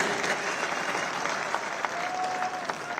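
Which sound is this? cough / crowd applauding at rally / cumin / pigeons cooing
crowd applauding at rally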